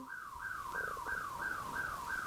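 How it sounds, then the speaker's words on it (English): A neighbouring car's alarm wails in a steady rising-and-falling cycle, repeating about every third of a second, clear and continuous at moderate distance with no talk over it. "Neighbor's alarm is on."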